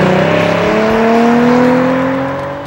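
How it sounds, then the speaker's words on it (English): A Hyundai Genesis Coupe 3.8 GT with a six-speed manual revs and accelerates hard, its engine note climbing loudly and steadily through the gear before easing off at the end. "Every little press of the throttle is met with a notable increase in forward velocity and sound effects."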